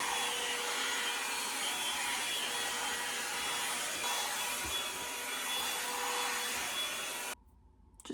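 A hair dryer sold as a cheaper Dyson alternative blows in a steady, loud, close rush of airflow for about seven seconds, then cuts off abruptly into near silence.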